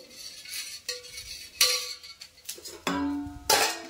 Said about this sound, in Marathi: यामध्ये टाकलेला आहे पिंक सॉल्ट, त्यामुळे मी आता छान हलवून घेतेय